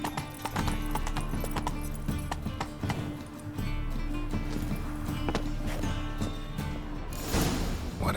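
Roach the horse trotting in The Witcher 3: Wild Hunt around Novigrad, hooves clip-clopping in a steady, close rhythm throughout, layered over dense game background sound.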